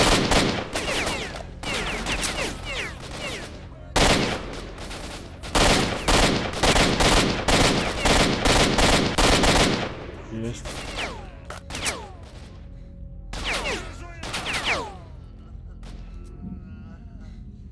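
Rapid bursts of automatic rifle fire in the video game S.T.A.L.K.E.R.: Shadow of Chernobyl crackle loudly in repeated volleys, separated by short pauses, with someone talking between and over the shots.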